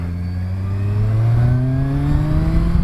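A 2019 Kawasaki Ninja 1000 motorcycle engine climbs steadily in pitch as it accelerates on a road with hairpin turns, heard loud and close with a smooth, rising tone and some wind rush.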